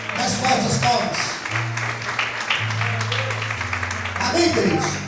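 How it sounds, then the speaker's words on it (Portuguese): A church congregation claps during a couples' sermon, the applause spread across the whole stretch beneath a sustained voice that talks and sings over it. "Mais fortes palmas."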